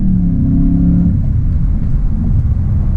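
A 2020 VW Jetta GLI with a DSG transmission accelerates hard, its engine giving a loud, steady low drone with a faint rising tone heard from inside the cabin, with no talking.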